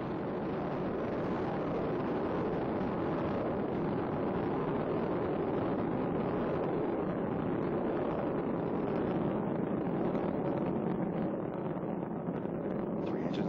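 Space Shuttle Endeavour's three main engines and boosters roar in a dense, continuous rumble during the STS-126 launch, heard as a steady distant crackling wall of noise with no pauses.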